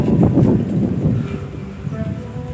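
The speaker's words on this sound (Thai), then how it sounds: "ลมแรงมากเลยครับลมแรงมากเลย" Strong wind buffets the microphone outdoors at a field-rat farm in Rayong, Thailand, a loud rumbling roar with gusts that ease slightly toward the end.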